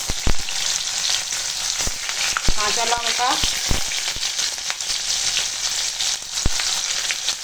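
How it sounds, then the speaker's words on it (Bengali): Onions sizzle loudly and steadily in hot oil, punctuated by sharp scrapes of stirring and a brief spoken remark. "পেঁয়াজটা ভেজে নেব"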